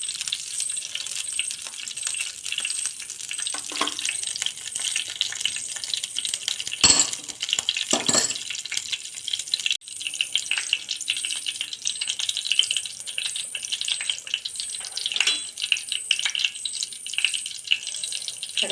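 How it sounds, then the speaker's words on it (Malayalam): Mustard seeds pop and crackle in hot coconut oil for a potato curry, a dense run of sharp, irregular ticks and spits close by, with a few louder snaps, sounding alone without talk. "കടുക് മൊത്തം പൊട്ടണം"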